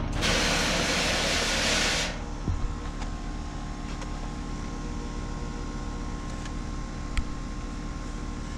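A loud, steady hiss of a flat spray of ceramic waterless wash on a car lasts about two seconds, then cuts off, leaving a quiet background hum with a few faint clicks.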